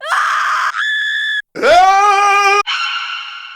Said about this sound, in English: And maybe also something like a horror scream.